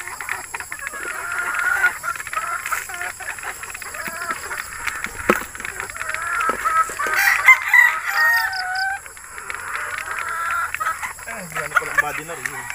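Beetles White gamefowl roosters crow repeatedly near and far, with clucking hens around them and someone speaking over the birds.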